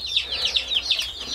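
Baby chicks shipped in a mail-order box peep close by in a quick run of high, shrill chirps, several birds overlapping.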